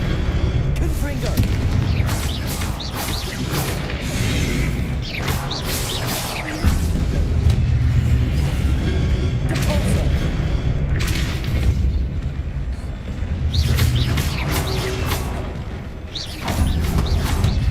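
Confringo blasting spell explosions in the Hogwarts Legacy video game, repeated heavy booms and rumbling blasts layered with combat effects, loud and dense through the whole stretch, with a player's voice heard over them.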